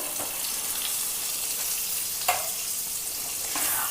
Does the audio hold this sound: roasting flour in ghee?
yes